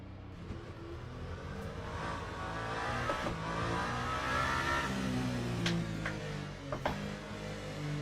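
A Toyota hypercar in the Le Mans Ultimate racing game drones steadily around the Portimao circuit on cold tyres, its engine note rising gradually to a sustained loud whine with a few brief shifts in pitch and no talk.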